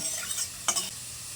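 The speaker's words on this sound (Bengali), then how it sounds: "এবার আমি কড়াই গরম করে দিয়ে দিচ্ছি সর্ষের তেল" Mustard oil sizzling in a hot wok with a brief louder hiss partway through, close and steady.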